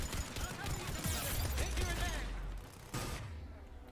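Rapid automatic fire from an enemy turret in the sci-fi shooter Mass Effect 3, a steady rattling barrage up close with a short pause and a renewed burst, and a voice speaking beneath it.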